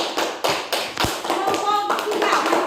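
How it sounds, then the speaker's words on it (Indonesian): Applause for a student group in a classroom, a crowd clapping steadily and fairly close for a few seconds, with a voice speaking briefly over the clapping. "tepuk tangan untuk kelompok 2"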